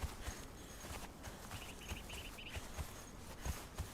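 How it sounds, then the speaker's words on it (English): Horse hooves clip-clopping in the game Age of Heros, near an aqueduct: faint, steady, evenly spaced hoof falls under a constant bed of ambient noise, with no talk. "A couple horses out here, too, if you didn't know, right underneath the aqueduct"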